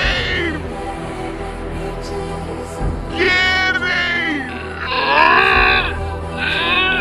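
A cat meowing in a kitchen, several drawn-out wavering meows in a row, near and fairly loud, with a brief spoken word and background noise.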